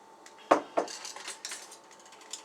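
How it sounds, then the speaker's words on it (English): Shrimp are stirred around in a frying pan, with a few sharp metallic clinks of a utensil against the pan followed by lighter scraping taps, fairly close and without any talk. "Just going to zhuzh my shrimp a little bit. Stir it around."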